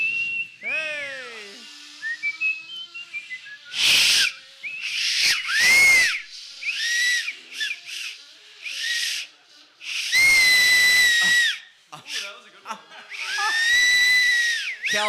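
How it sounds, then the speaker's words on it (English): Shrill, piercing whistles blown on an acorn cap, coming in repeated bursts of varying length, some with sliding pitch, while voices shout and talk in between. "bunch of musicians should be able to make an acorn cap whistle"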